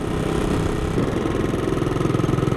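A Honda CB250RS motorcycle engine idles steadily and close by, a low continuous throb with a slight regular pulse and no talking.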